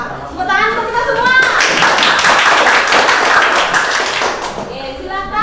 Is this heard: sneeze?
no